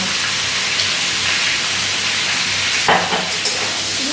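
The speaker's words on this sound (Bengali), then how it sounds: "এটাকে আবার একটুক্ষণ ভেজে নেব দু তিন মিনিট নাড়াচাড়া করে ভেজে দেওয়ার পরে" Pumpkin and greens frying with prawns in a pan, a steady close sizzle with soft stirring scrapes and a few louder clatters near the end.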